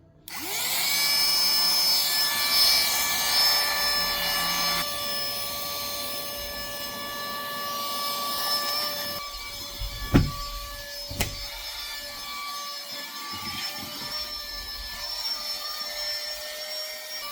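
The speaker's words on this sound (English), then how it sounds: "I will vacuum the dust and hair off the bed." A vacuum cleaner runs steadily as it sucks dust and hair off a bed in a tiny rented room in Vietnam, a loud, close whine with a shift in pitch and a couple of knocks.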